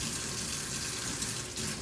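Tap water runs hard over a kitchen strainer in a sink, a steady, loud, close rushing stream with a brief shift in splash near the end.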